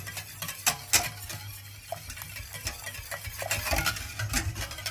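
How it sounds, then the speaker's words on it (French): Panna cotta mixture whisked in a pot off the heat, a busy run of close metallic clinks and scrapes with an uneven rhythm that grows denser toward the end. "On sort du feu et on continue à fouetter."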